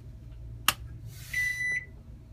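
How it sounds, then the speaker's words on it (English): A Sharp microwave oven plays its electronic startup chime on power-up: a sharp click followed by a short, bright, fairly quiet beeping tone over a low electrical hum. "Microwave made some crazy startup sound."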